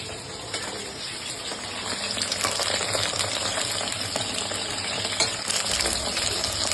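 A batch of chicken pakoras frying together in hot oil, a dense continuous crackling sizzle with scattered sharper pops, moderately close and steady throughout, with no voices.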